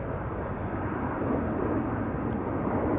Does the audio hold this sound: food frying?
no